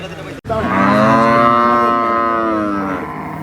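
A bull at a cattle market in Manjeri gives one long, loud, close moo lasting about three seconds, just after a short sharp knock.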